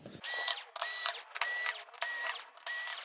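Screws driven out of the power supply board of a Toshiba 50L1400U television by a powered driver, heard as five close, loud whirring bursts of ratcheting motor sound separated by short pauses.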